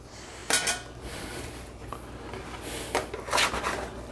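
Sourdough tuna melts flipped in a pan, giving a couple of clattering scrapes and knocks of a spatula against the pan, close and moderately loud, with quieter shuffling between them.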